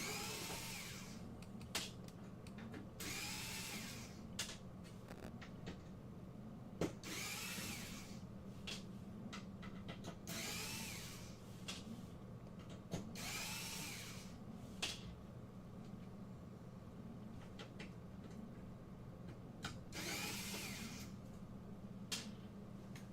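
A power drill whirring in repeated short bursts while removing screws to take an item apart, each burst loud and close with pauses and small clicks between, no talk.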